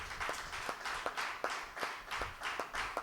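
A church congregation claps together during Holy Mass, a steady, even rhythm of about three claps per second sounding full and roomy throughout.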